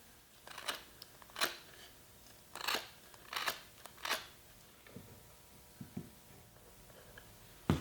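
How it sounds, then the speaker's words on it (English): A utility knife shaves the edge of a wooden dowel in short, crisp scraping strokes, a handful of quick rasping cuts close up with brief pauses between them. "I'm going to use a utility knife and soften the edge of the dowel up just a little bit"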